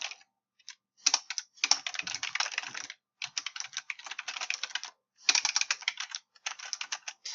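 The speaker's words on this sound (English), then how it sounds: "I can't spell when I'm typing for you guys" Fast, irregular typing on a computer keyboard, close and fairly loud, coming in bursts of rapid clicking separated by brief pauses, with no voices.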